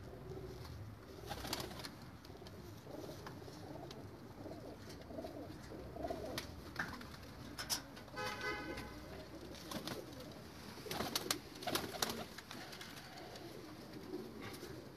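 Pigeons brought from Pakistan and kept at a home coop coo softly and intermittently, fairly faint and distant, over a steady background hiss with a few brief louder rustles.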